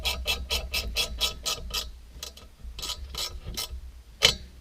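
A ratcheting wrench turns bolts on a 92 GT motorcycle engine on a workbench, giving rapid bursts of sharp clicks close by, then a pause and a few more clicking strokes.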